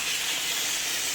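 Water poured into a hot pan of poppy seed curry with green chilli paste gives a loud, steady burst of hiss and steam, close and continuous without talk.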